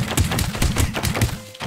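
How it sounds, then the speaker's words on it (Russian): Gunfire from the Scrap Mechanic video game hits a player-built structure in a fast run of dull thunks and thuds, repeated roughly every few tenths of a second and fairly loud. "Стреляй, Димас."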